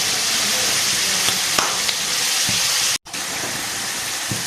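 Two kilograms of salted chicken fry in ghee in a handi pot, giving a steady close sizzle and hiss that drops out briefly for a moment and then resumes, with faint stirring clicks.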